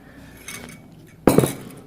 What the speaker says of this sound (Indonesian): Ini gelasnya soalnya tebel, jadi saya harus pakai sendok nih.